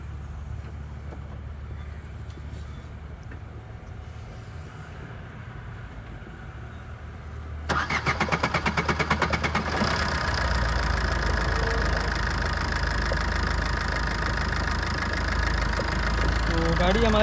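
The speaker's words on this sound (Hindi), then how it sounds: "लगाते हैं गाड़ी को सेल्फ और करते हैं स्टार्ट" A Maruti Suzuki Ertiga diesel engine with a P0641 sensor reference voltage fault idles softly, then cranks and catches with a loud clattering rattle, settling into a steady rumbling idle close by, with speech under it.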